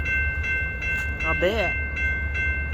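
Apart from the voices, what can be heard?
train passing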